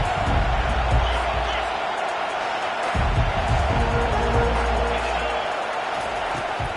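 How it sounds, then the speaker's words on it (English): Loud stadium crowd roaring at an Ohio State football game, a dense sustained wall of cheering with low rumbling surges throughout. "This crowd bringing an ear-splitting welcome to their visitors."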